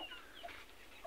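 A hen clucks faintly and nervously at a close distance, with a few short calls over steady background noise.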